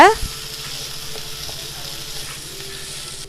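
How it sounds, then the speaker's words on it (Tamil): Onion, tomato and green chilli fry and get stirred in a pan for squid fry, a brief clatter at the start giving way to a steady, fairly quiet sizzle with no talking. "அப்புறமா கொஞ்சம் தக்காளி, கொஞ்சம் பச்சை மிளகாய், இதெல்லாம் போட்டுட்டு நல்லா கலந்து விட்டுருங்க."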